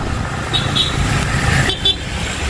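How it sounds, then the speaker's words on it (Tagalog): A car moves along a road with light traffic, a steady engine and road rumble close by, broken by a couple of short horn toots. "Ayun, pinalusot na natin yung sasakyan, ano?"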